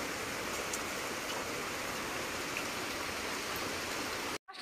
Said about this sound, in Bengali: আজকে এখন বাজে 12টা, এখনো পর্যন্ত বৃষ্টি পড়েই যাচ্ছে, পড়েই যাচ্ছে।